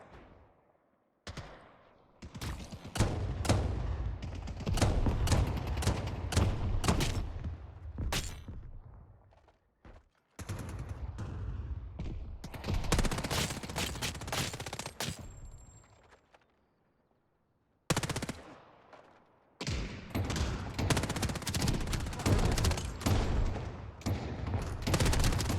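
Bursts of weapon fire in the game Ascendant rattle out loudly in several long volleys, each broken by a pause of near silence before the next sustained burst.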